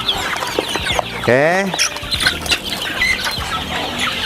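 Chickens being fed, close clucking and a rising squawk from hens, with someone talking briefly over them.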